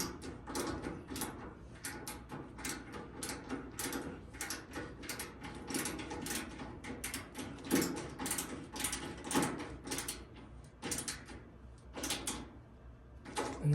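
Cordless driver screwing in the dampening strap on a GE washer, a close run of short mechanical whirs and clicks repeating in quick bursts for the whole stretch, with no talk over it.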